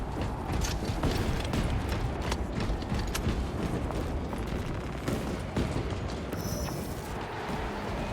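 A Space Marine 2 ordnance strike in Horde Mode, heard as a dense, steady barrage of loud impacts and crackling blasts that hammer on for several seconds without a break, with faint mechanical clatter beneath.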